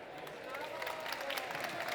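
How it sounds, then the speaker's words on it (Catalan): An audience at a gastronomy cooking demonstration applauds chef Edgar Sucarrats, a faint, steady patter of many hands clapping in the background while a voice speaks. "un altre aplaudiment pel l'Edgar"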